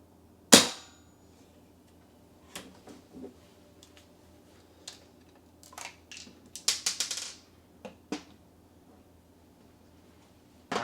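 An airsoft spring rifle fitted with a Springer Custom Works spring guide sleeve fires one sharp, loud snap, followed by quieter scattered clicks and handling taps from the gun over near silence.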